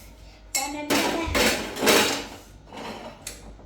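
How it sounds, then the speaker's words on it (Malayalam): A metal cooking pot for crab curry is picked up and handled, giving several close, sharp clanks and rattling knocks in an irregular burst, with no one speaking. "നമുക്ക് ഇനി പാത്രങ്ങൾ എടുക്കാം"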